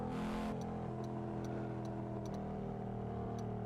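Car engine in the Assetto Corsa racing game holds a steady, loud mid-pitched drone with a brief higher rev burst at the start, then a sustained even tone with faint clicks, and no talk.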